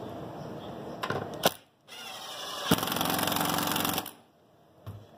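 A power screwdriver drives a screw into a wooden ironing-board chair: a short buzzing burst, then a longer steady whirr of about a second and a half, with brief clicks and quiet gaps between.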